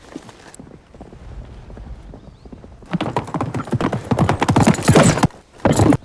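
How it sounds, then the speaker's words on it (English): A horse ridden out across open ground in the 1990 film Quigley Down Under, hooves clip-clopping in a steady rhythm, faint and distant at first, then louder and closer. "Whitey, take that bucket and ride out until I signal."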